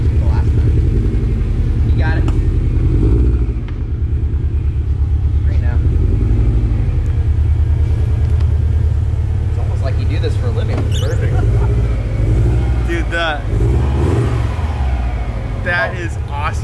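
A rare JDM Subaru engine idling and burbling through a Kakimoto titanium exhaust with the silencer removed, a loud continuous low rumble under people talking nearby.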